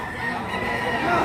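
Roosters crow steadily across a busy poultry market full of fowl, with overlapping crowing and clucking in a dense, continuous din, some birds close and others farther off.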